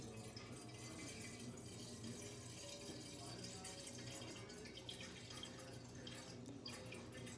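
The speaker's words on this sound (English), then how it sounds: "Then turn the water on." Water from a kitchen sink tap runs steadily into a pot, making a continuous, faint splashing and trickling sound with a low hum underneath.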